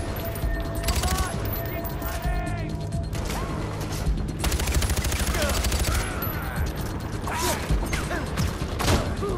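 Dense bursts of automatic gunfire and explosive crashes in the Far Cry 4 video game, loud and nearly continuous, with clanking mechanical noises and a voice occasionally breaking through the barrage.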